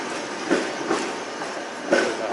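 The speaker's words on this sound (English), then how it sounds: "Those are some old school trams right there." An old 1950s-style tram passes in the old town of Bratislava, its wheels clacking in rhythmic bursts over rail joints at moderate distance, with no voices.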